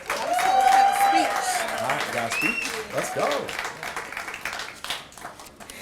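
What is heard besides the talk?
audience applauding Dominique Hickman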